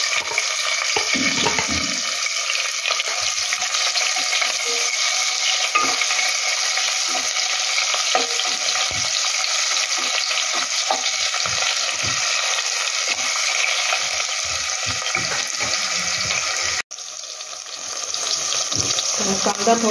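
Onion goes into a hot pan for Kolhapuri masala chicken and fries with a loud, dense, continuous sizzle that runs nearly the whole time, briefly dropping out for an instant near the end.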